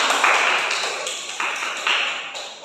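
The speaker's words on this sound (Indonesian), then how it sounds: "Tepuk tangan untuk kita semua." A middle-school class claps together in a patterned rhythm: a series of sharp, evenly spaced bursts that ring briefly in the room, with no talking over them.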